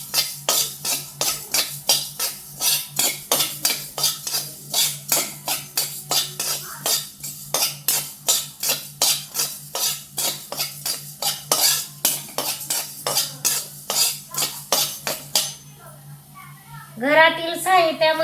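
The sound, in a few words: coriander seeds dry-roasting and stirred in a pan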